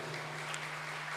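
Applause in a hall at the closing of a provincial vocational school skills competition, a soft, continuous wash of clapping from a distant audience with a steady low hum beneath it.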